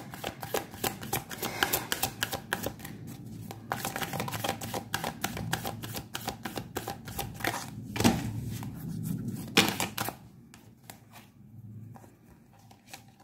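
Oracle cards are shuffled by hand close up, with a steady run of quick riffling and slapping clicks for about ten seconds before it trails off into softer handling noises.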